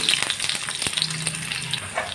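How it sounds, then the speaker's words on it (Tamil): Onions frying in hot oil give a steady crackling sizzle, with a few clinks and stirring scrapes over it and no voices. "அடுத்து ஒரு மீடியம் சைஸ் வெங்காயம் நறுக்கி வச்சுருக்கேன் அதையும் இதில் சேர்த்துருவோம்"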